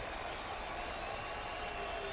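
Dense, steady roar of a baseball stadium crowd cheering at a World Baseball Classic game between Panama and Canada, a continuous wash of many voices without distinct peaks.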